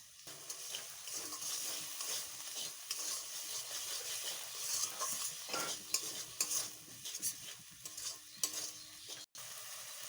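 Dried chilli paste and spices being stirred and fried for drumstick chorchori, a steady soft sizzle with scraping stirs throughout, fairly quiet and close, no talking.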